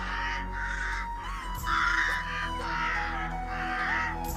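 A crow caws repeatedly near a house, harsh rasping calls coming in a steady series of about five, loud and close over a low background hum.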